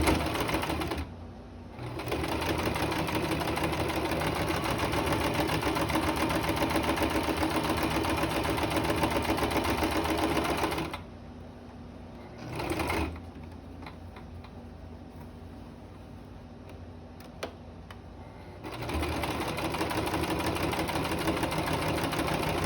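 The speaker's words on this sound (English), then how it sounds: "We are going to make another seam all four sides." A sewing machine runs a seam around the four edges of a fabric mask, whirring steadily in long close bursts broken by short pauses and a brief restart.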